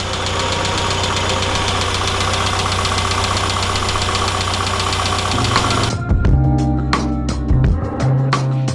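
Classic Mini SPi engine idling steadily at operating temperature after its first start, a dense continuous running note with a mechanical tick that turns rougher and uneven near the end, close by with no talk.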